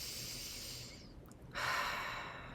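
A single slow, deep breath drawn in close to the microphone, a soft airy rush that dips quiet before swelling and fading, with no talking.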